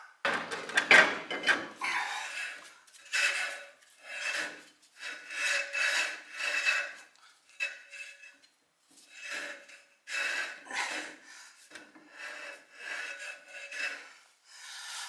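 A brake shoe drags on the drum of a 1968 Pontiac GTO being turned by hand, repeated scraping rubs in a steady rhythm, a metallic drag swelling and fading about once a second, close by with no talking.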